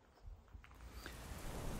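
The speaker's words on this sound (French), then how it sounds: "le temps, il est vraiment moche. Ça pleut. C'est pas violent, mais ça pleut." Light rain falling outside a garage workshop, a soft continuous patter that grows slightly louder toward the end and stays fairly faint overall.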